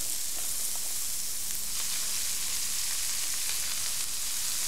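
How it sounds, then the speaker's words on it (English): Fresh chanterelle mushrooms sizzle and fry in a hot pan, a steady, dense crackling hiss with occasional pops that holds close and even throughout, with no voices. "So the chanterelles goes in the pan."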